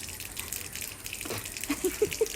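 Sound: water poured from a height for an animal to drink

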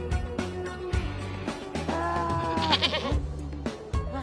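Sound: goat bleating

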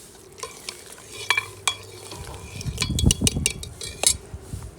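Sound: koftas being added and stirred into curry in a pot

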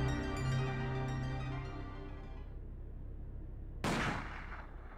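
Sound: gunshot in video game The Silver Case

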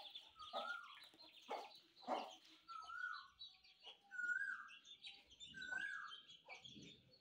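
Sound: Aseel hen clucking with newly hatched chicks

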